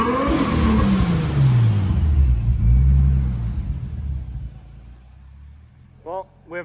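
A Nissan Skyline R33 engine revs through an exhaust still fitted with two resonators: a loud, deep rising and falling rev that then settles into a lower rumble, with brief voices near the end.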